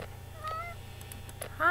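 A pet cat gives two short, soft meows indoors, faint against a low steady hum, followed by a slightly louder final cry.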